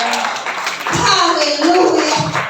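A church congregation claps along during a sermon, a dense run of hand claps layered under an energetic preacher's voice and crowd noise.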